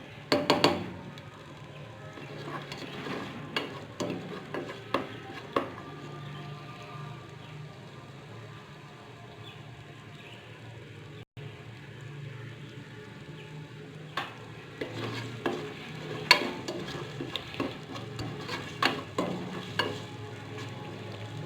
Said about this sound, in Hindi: और इसको हम भून लेंगे हल्की हल्की आंच पर, गोल्डन ब्राउन होने देंगे